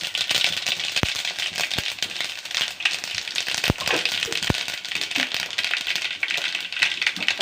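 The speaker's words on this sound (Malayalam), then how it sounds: "കടുക് പൊട്ടിച്ച" Mustard seeds pop in hot oil in a home kitchen, a dense rattling crackle with several sharper, louder pops scattered through, heard close up and steady.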